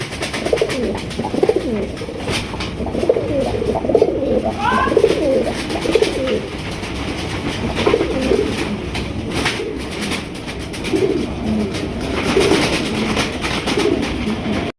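Red-colored pigeons coo repeatedly at close range, soft throaty calls overlapping steadily against a constant background hiss.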